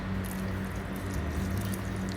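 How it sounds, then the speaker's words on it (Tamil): Water poured and strained while making a lemon mint chia drink, a steady close splashing trickle that runs continuously without talk. "இப்போ திருப்பியும் நம்ம 2 கப்பு தண்ணி விட்டு அதை அப்படியே வடிகட்டி எடுக்கிறோம்."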